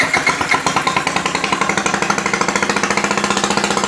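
A Honda Ruckus fitted with a 171cc head and cylinder idles loudly up close, its rapid, even putter running steadily throughout.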